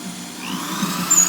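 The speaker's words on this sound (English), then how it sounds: "I'm drilling the holes for the edges of the seat." Power drill boring holes through plywood for the edges of a go-kart seat, a steady close whirring grind that climbs slightly in pitch over about a second and a half.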